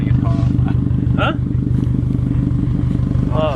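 A loud car engine left running, idling with a steady, rapid low throb that carries all the way through, with brief voices over it.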